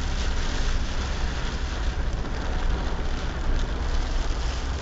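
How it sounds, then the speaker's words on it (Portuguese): Heavy rainstorm in the Pantanal, Mato Grosso, a steady dense roar of rain that fills the whole clip, loud and continuous with no break. "Olha a chuva, meu amigo. No Pantanal, Mato Grosso."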